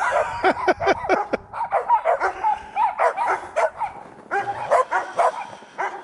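Several dogs bark excitedly, near and loud, in a rapid overlapping run of barks and yips with a few whimpers between them, while ponies set off for training.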